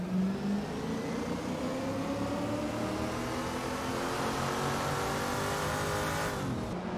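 Group 3 race cars leave the start at Laguna Seca in an AI-driven racing game, their engines revving upward together in a loud, sustained, rising roar that holds steady for several seconds.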